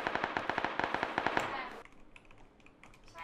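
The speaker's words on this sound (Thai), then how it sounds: "ใครยิงกูวะ" Rapid, evenly spaced bursts of gunfire from an M16 in a video game shooter ring out for over a second, then fade into quieter background noise.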